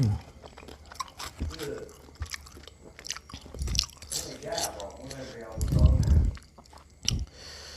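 Crunchy chewing and biting of a Thai mixed spicy salad loaded with shrimp, close to the mic, with wet squishy bites and a louder burst of crunching, interleaved with casual talk.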